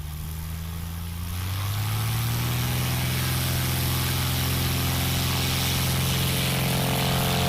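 A STOL aircraft propeller spins up during a takeoff run at a STOL competition in Gallatin, Tennessee, a steady loud drone rising in pitch as the engine builds power, continuous and close with no talk.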